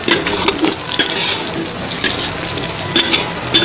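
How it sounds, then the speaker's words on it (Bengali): Goat meat sizzles in a pan as steady frying hiss fills the scene, punctuated by periodic scraping stirs at an uneven rhythm, close and fairly loud. "আমাদের এখন খাসির মাংস রান্না হচ্ছে।"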